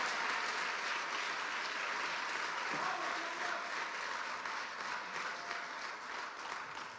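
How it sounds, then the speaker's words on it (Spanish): A church congregation clapping in praise, a dense, continuous patter of many hands with a faint rhythmic pulse, heard from a distance and fairly quiet. "¿Cuánto pueden dar palmas de alabanza al Dios de la palabra?"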